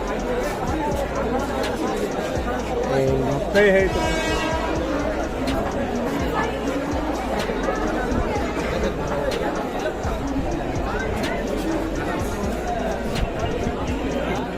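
Crowd hubbub on the Andheri station platform in Mumbai while people wait for a fast train, a dense close murmur of many voices with footsteps and scattered station noise, continuous throughout.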